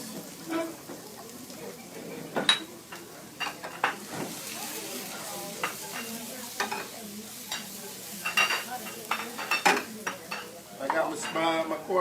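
A spoon stirs onion, pepper and raisins in hot oil in a pan at an outdoor cooking class, with a steady sizzle and frequent scraping clinks against the pan.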